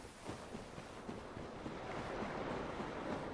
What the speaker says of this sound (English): Why are we hearing sloshing water?